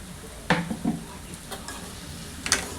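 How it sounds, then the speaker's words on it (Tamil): Tomatoes frying in oil in a pan for ridge gourd gravy, with a low steady sizzle and a few sharp stirring scrapes and clatters of a spoon against the pan, fairly close. "நல்லா தக்காளியும் போட்டு அந்த எண்ணெயிலே வணக்கணும்"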